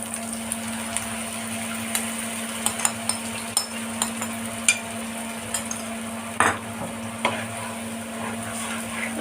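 A spice mixture fries in a pan for a curry while a spoon stirs it, making a low steady sizzle broken by sharp scrapes and clinks against the pan at irregular intervals.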